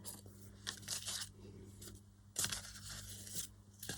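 Craft material for a Christmas lunch bag being cut close to the mic, short crisp snips and tearing crunches in irregular bursts over a low steady hum.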